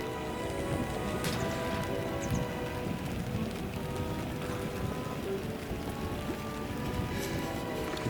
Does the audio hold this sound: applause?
no